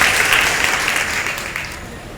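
Congregation at a Telugu Baptist church Sunday service clapping together, a dense, steady wash of applause that starts strong and tapers slightly toward the end, with no voices over it.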